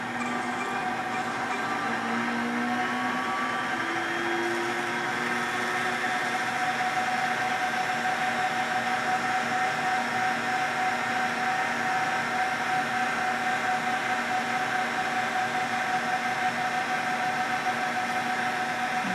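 A Virtis Tempest Virtishear I.Q. homogenizer, model 278101, runs at 9,000 RPM with a steady, even electric whine and several sustained tones that hold without a break throughout.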